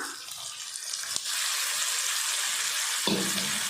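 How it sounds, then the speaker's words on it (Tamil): Mashed pulicha keerai sorrel leaves sautéing in hot oil, a loud steady hiss and sizzle that swells into a dense continuous frying noise, close, with a brief stirring knock, no voices. "புளிச்சக்கீரையை சேர்த்துட்டு நல்லா கலந்து விட்டு எண்ணெய் பிரிஞ்சு வர வரைக்கும் நல்லா வதக்கிடலாம்"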